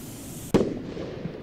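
One firework bursts in the Roblox game Lumber Tycoon 2, a single sharp boom followed by a short rumbling decay over light background noise.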